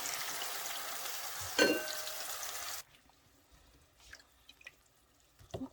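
Browned potatoes sizzle loudly in a pan, then water is poured in with a sharp hissing burst. Soon after, the frying cuts out, leaving only faint drips and small clinks.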